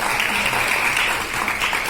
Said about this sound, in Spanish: yo pido un aplauso para estas personas que nos ayudan